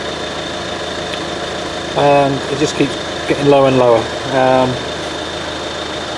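A Ford S-Max TDCi diesel engine idles steadily at close range, with a faint alternator charging fault, while someone talks over the low hum.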